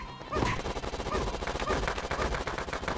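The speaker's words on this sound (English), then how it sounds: "Why are you shooting at me, Dot Panty?" Rapid, continuous machine-gun-style gunfire from a Panty Party video game battle: a steady stream of close, crackling shots with a sharp onset that runs for about three seconds without a break, and no talk.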